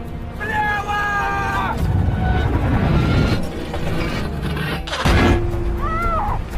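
Loud gunfire and booms hitting and ringing off a Soviet T-34 tank in a WWII battle against German Panther tanks, with bursts of shots, metallic whines and an excited voice heard over the action.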